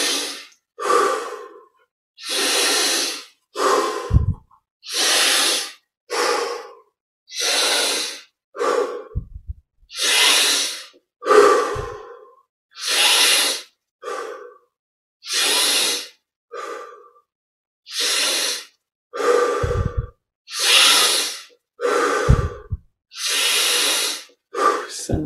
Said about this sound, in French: Puis on augmente petit à petit l'amplitude des respirations.